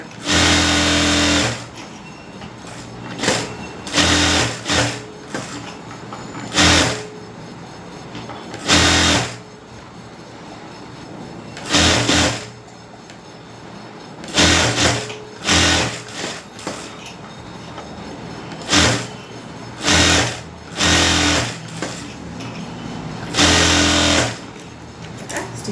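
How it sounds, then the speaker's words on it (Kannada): A sewing machine stitches the lining of a blouse in repeated loud bursts of rapid whirring, each lasting a second or two, with short quiet pauses between runs. "ಲೈನಿಂಗ್ಗೆ ಸ್ಟಿಚಿಂಗ್ ಮಾಡ್ಕೊಳ್ಳೋಣ"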